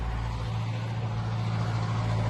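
A tractor engine runs while pushing snow in cold weather, a loud, steady low diesel drone heard close and continuous without talk.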